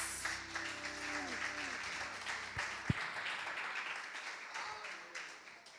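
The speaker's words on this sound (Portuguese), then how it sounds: "As palmas para Jesus." Congregation in a church clapping for Jesus during worship, a dense burst of many hands with a sharp loud clap near the middle. Faint singing tones sound under it early, then the clapping fades out toward the end.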